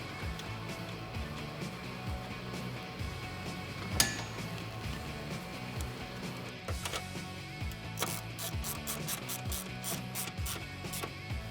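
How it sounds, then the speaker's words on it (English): A 10mm bolt is tightened on the air box of a 2019-2022 Silverado or Sierra 1500 V8 during a cold air intake install. Faint shop clatter and low rubbing give way to a quick run of ratchet clicks near the end. "We're going to use our 10mm that we took off when we removed the old air box. And we're going to tighten that up."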